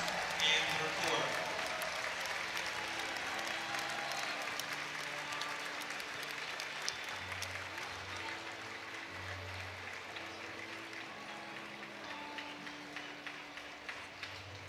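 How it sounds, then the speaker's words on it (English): Crowd at a basketball game homecoming ceremony claps continuously for the queen and her court, sustained steady applause filling the gym at moderate distance, with some cheering and an announcer speaking. "let's give a final round of applause to our 2026 Sweetheart Queen, Miss Emily Roberts, and her court."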